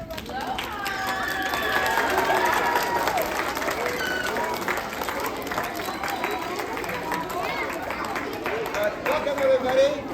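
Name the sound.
audience applause for a Shaolin lion dance school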